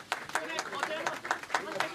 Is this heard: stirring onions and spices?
no